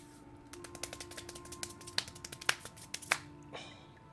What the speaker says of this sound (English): I got to do the stupid silly clap. The seal clap.